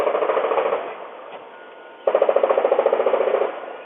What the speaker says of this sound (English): Ring camera video near the church also capturing what seemed to be multiple rounds of gunfire.